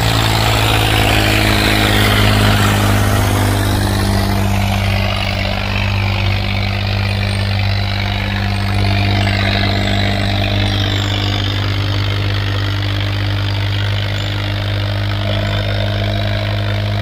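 A tractor engine runs loudly and steadily at close range, its low chugging drone holding nearly constant throughout with no voices.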